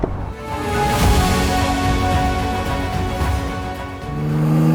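A BMW M4 convertible accelerates hard, its engine note rising steadily and loud and close, with a brief dip before surging again toward the end; no one speaks.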